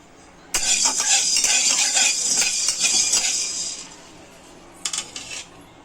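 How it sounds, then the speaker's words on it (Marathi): Whole black peppercorns dry-roast in a pan, rattling and clinking as they are stirred and tossed in a dense close patter for a few seconds, then a quieter pause and a couple of short rattles. "काली मिरी आता आपण भाजून घेऊया"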